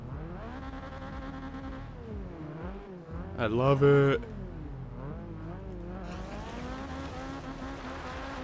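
A single-turbo Subaru BRZ drift build in Forza Horizon 2 revs and holds its engine in a rising, falling howl with a sharp surge midway, while someone talks briefly over it.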